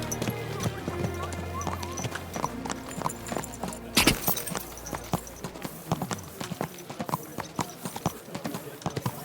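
Horse hooves clip-clopping steadily in the medieval game Kingdom Come: Deliverance 2, a quick rhythmic trot of sharp knocks with a brief whinny, heard under game ambience and some talk.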